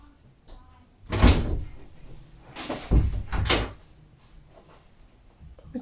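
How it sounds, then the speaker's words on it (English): A house door is opened, giving a few soft knocks and rattles spread over several seconds indoors, moderately close, with no talking. "just opened up the door and threw a cat toy in here"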